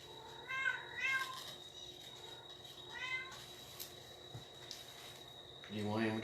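Pet cats meowing indoors beside someone crafting, several short rising meows spaced through the clip, fairly quiet, with a louder, lower cry at the end.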